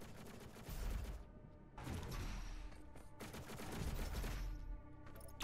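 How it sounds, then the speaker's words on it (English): Bursts of rapid gunfire aimed at the player in Doom Eternal, loud and close, coming in three dense volleys separated by short gaps. "Stop shooting at me!"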